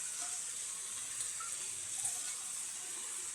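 Whole green chillies hiss and sizzle in hot oil in a frying pan, a steady, fairly quiet crackling that runs unbroken from start to finish with no voices.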